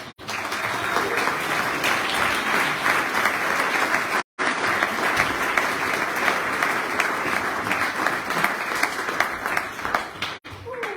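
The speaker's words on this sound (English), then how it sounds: "Give a round of applause" A crowd applauds loudly and continuously, dense clapping filling the room with a brief break partway through.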